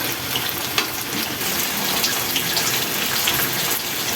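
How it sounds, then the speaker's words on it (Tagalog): Tofu frying in a pan gives off a steady, close, hissing sizzle that holds at an even level throughout, with no voices. "at umpisa na natin ang magprito ng tukwa"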